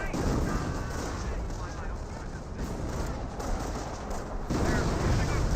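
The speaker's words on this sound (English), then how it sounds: "but it is receiving artillery" Company of Heroes artillery fire heard as a dense, continuous roar of booms and battlefield rumble, loud and steady throughout, with a voice talking over it.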